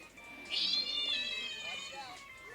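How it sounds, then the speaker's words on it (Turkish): A cat meows loudly in one drawn-out, high call, heard through a speaker, with background chatter and laughter around it. "Hoparlörden kedi sesi verecek."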